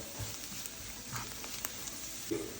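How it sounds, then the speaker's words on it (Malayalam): Garam masala and other spices fry in oil for a venison fry while being stirred, giving a quiet, continuous sizzle broken by occasional light scrapes and taps of the spoon. "ഈ മസാലയുടെയൊക്കെ ഒരു പച്ചമണം മാറുന്നത് വരെ ഒന്ന് ഇളക്കി കൊടുക്കുക"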